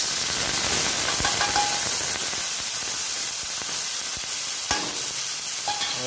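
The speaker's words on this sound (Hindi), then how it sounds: "इसको अच्छे से हम फ्राई कर लेते हैं।" Cumin, ginger, onion and spices fry in a pan with a continuous soft sizzle, broken by a few sharp clicks and scrapes of stirring.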